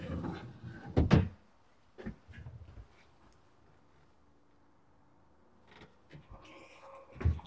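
Kitchen cabinet drawers in a Live Oak Homes Veranda mobile home kitchen, a few soft thumps and slides opening and shutting, with quiet gaps between and brief clatter near the end.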